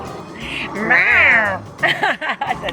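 A person imitates a cat, giving a long drawn-out meow followed by a few shorter meowing sounds, close and fairly loud.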